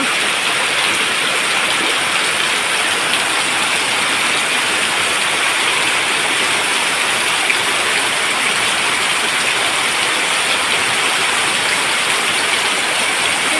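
Rain falls steadily near a river, a dense, even hiss of water that holds at the same level from start to finish, with no voices.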